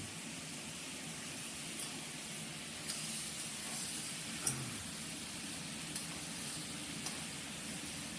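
Fish frying in hot oil with turmeric and salt, a steady soft hiss and sizzle throughout with a few faint clicks, no voices.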